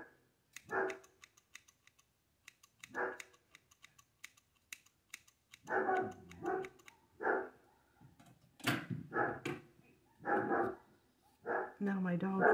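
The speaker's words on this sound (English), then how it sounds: "My dog's outside barking." A dog barks outside during a home haircut session, giving several sharp, spaced barks that come in short bursts and sound somewhat distant, with faint clicking between them.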